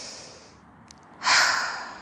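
Deep breaths taken in through the nose, then a strong exhale through the mouth, audible and close, a soft rising inhale before a louder rushing breath out that gradually fades, with no talking.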